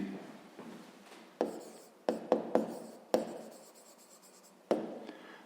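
Pen writing on paper while working a grade-5 math exercise, a series of scratchy strokes with several sharper taps and pauses between them, close and fairly quiet with no talk.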